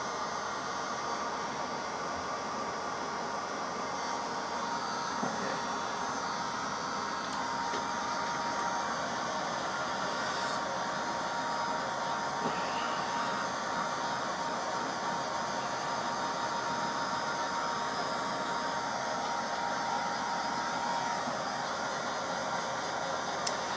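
A hair dryer blows in a steady, continuous whooshing drone, close by and unchanging from start to finish.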